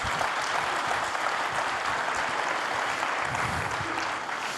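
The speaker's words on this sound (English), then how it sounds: "You're welcome to applaud this perfect joke." Audience applause at a tech talk on database operators after a joke, a dense, steady burst of many hands clapping for several seconds, fairly loud and without speech.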